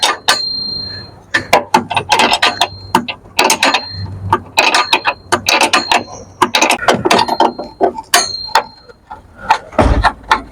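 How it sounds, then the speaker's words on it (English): An 18mm spanner working a bolt on the front shock of a Cadillac SRX, giving a dense run of close, loud metallic clicks, rattles and scrapes with brief pauses and a thump near the end. "I'll just put the 18mm spanner on it"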